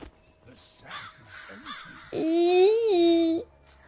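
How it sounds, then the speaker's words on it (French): Crows cawing in a video game, a drawn-out loud caw-like call sounding after a spell of excited speech, with other voices chattering around it. "Passez corbeau, passez corbeau."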